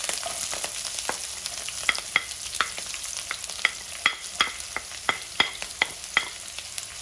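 Two dried red chillies, green chillies and onions fry in hot oil for a bottle gourd curry, giving a steady close sizzle broken by frequent sharp spatula scrapes and clicks. No one speaks.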